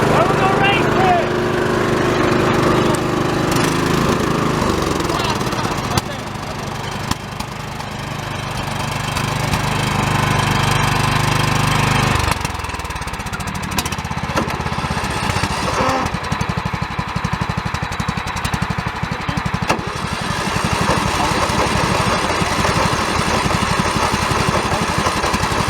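A small lawnmower engine runs loudly and roughly in a backyard race against another mower, its throttle shifting and settling into a lower idle partway through, with voices talking over it.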